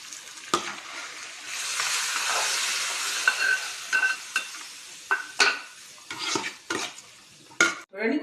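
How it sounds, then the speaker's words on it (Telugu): A tempering of spices goes into hot oil and gets stirred, producing a close sizzle with a string of sharp scrapes and clinks of a utensil against the pan, some in quick bursts toward the end. "పోపు వేసేస్తాం"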